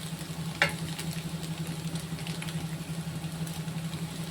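A papaya flower and egg stir-fry sizzles in a pan as it is stirred, a continuous frying hiss over a low steady hum, with one distinct scrape-clack of the spatula near the start.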